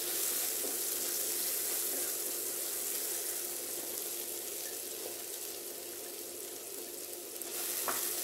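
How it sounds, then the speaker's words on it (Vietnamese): Pineapple stir-fried in a pan with spring onion and garlic, giving a steady, quiet sizzle with light hissing throughout and a brief scrape near the end. "Tiếp tiếp mình cho khóm vào xào cho nó ra nước chua chua ngọt ngọt nó ngon."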